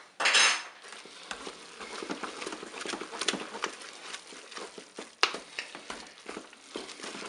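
Salmon, leek and rice with crème fraîche being stirred in an opened Cookeo pot, giving a run of soft clinks and scrapes of a utensil against the pot, close and fairly quiet, with no talking.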